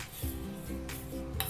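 A spoon stirring eggless chocolate cake batter with cornflour in a metal bowl, giving steady scraping and clinking strokes close up, with repeated rhythmic sweeps and no talking.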